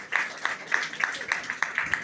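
A church congregation claps together at an inauguration-day worship service in Khammam: a steady, rhythmic run of sharp hand claps at a moderate distance, with no talking over them.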